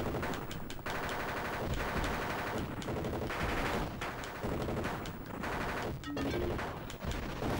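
Rapid gunfire from a retro NES or Genesis video game, dense continuous bursts of electronic shots with brief gaps, played loud and alone without talk.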